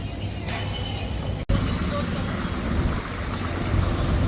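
A tractor engine drones steadily while riding along with a load of household goods being moved, a continuous close rumble with road and wind noise, broken by a brief dropout midway; voices talk over it.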